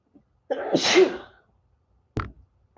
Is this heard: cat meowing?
no